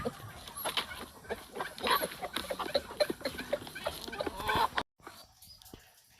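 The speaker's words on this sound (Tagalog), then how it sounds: "hindi mapili sa pagkain yung mga manok na to" Chickens cluck and chatter in a busy, close flock while being fed, with scattered short calls and scratching noises, briefly cutting out near the end.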